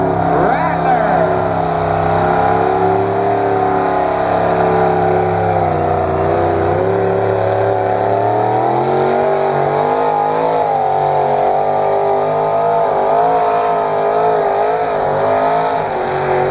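A Massey Harris pulling tractor called the Rattler roars loud and sustained at a tractor pull. Its engine pitch climbs and shifts as it works under load, with voices faintly beneath the drone.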